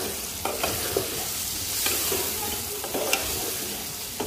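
Potatoes and pointed gourd frying in oil in a pot for a rohu fish curry, with a moderate steady sizzle and a few sharp stirring scrapes and clinks, near and fairly quiet, with no talk.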